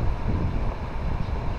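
Steady wind buffets the microphone outdoors during an oil-painting session, a loud continuous low rumble that barely varies from start to finish, with no one speaking over it.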